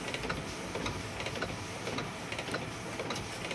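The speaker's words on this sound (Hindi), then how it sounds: "ये देखो प्रिंट ले लिया है और एकदम अच्छी क्वालिटी से प्रिंट करे गए" An Epson L8050 six-colour printer, a 2024 model, prints a PVC card with a steady, busy mechanical whir and rhythmic ticking clicks throughout, close by, with no talking.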